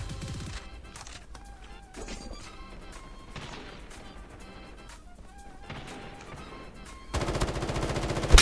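Automatic gunfire in Call of Duty Mobile with an M13 rifle, bursts of shots mixed with game music, then a loud, dense stretch of rapid firing near the end.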